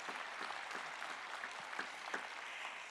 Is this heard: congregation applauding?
yes